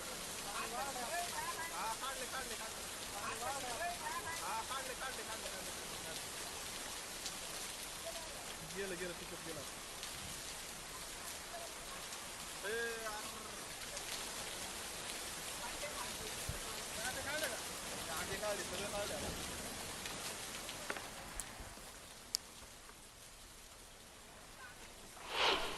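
Heavy rain from the downpour behind flooding in Beed district, a dense steady hiss of rainfall heard throughout, with indistinct voices faintly in the background.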